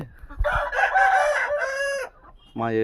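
A country fighting cock crows loud and close, a long strained call lasting about two seconds, followed after a brief pause by the start of another crow.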